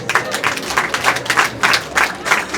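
An audience at a women's day celebration in a refugee camp claps hands together: steady, fairly loud bursts of applause with a regular rhythm, continuing throughout without talk.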